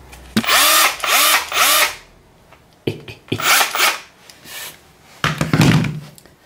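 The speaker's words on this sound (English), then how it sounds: "The Bosch drill." A Bosch drill, switched to hammer mode, runs in three loud close bursts near the start, then stops and restarts in shorter bursts after a gap, with clunks between runs.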